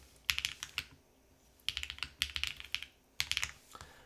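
Fast bursts of crisp clacky keystrokes on a custom Paper80 mechanical keyboard, close and clear, arriving in quick clusters separated by short pauses.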